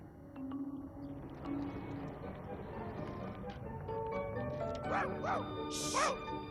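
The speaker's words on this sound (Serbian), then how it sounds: "Još jedan pas." A dog in an animated cartoon gives a few short yips and barks toward the end over a low background murmur.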